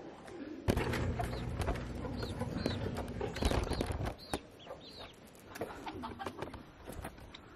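Meat chickens on a homestead cluck and coo in a busy, overlapping chorus after a storm, eager for food, with short calls repeating close by and a steady rustle underneath.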